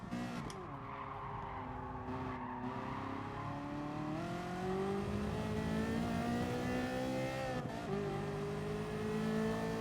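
A race car in GT Sport loses grip mid-corner, its engine revving and wavering while tires squeal and skid, a continuous loud synthetic roar with rising and falling pitch and no talking.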